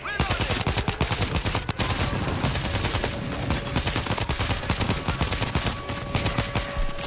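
Rapid automatic gunfire in the zombie shooter World War Z, sustained bursts of machine-gun fire rattling loudly and continuously through the whole stretch with no talk over it.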